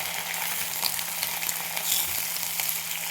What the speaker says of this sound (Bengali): সব একসাথে ভেজে নেব।